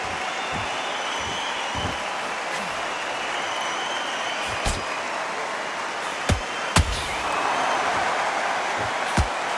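Boxing arena crowd in the video game Undisputed, a steady broad murmur of spectators filling the background, with occasional sharp punch impacts cutting through at irregular intervals.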